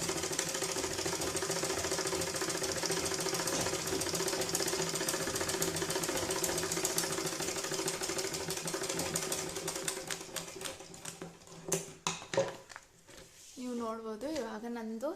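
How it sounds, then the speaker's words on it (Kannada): Treadle sewing machine stitching fabric in a beginner's lesson, a steady dense mechanical rattle running continuously for most of the clip before slowing and breaking up, with a voice speaking near the end. "ನಾನು ಯಾವ ರೀತಿ ಮಷಿನ್ ತುಳಿಬೇಕು ಅಂತ ಹೇಳಿದ್ದೀನಿ ಆ ರೀತಿ ತುಳಿಲಿಕ್ಕೆ ಶುರು ಮಾಡಿ"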